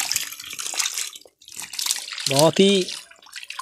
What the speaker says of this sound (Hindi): जंप कर रहा है पानी के अंदर में, देखिए ग्रीन टेरर।